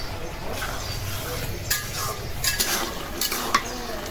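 Jute greens dropped into a pot of half-cooked dal and stirred, giving soft scraping and a few sharp utensil clicks against the metal pot over a steady low cooking hiss.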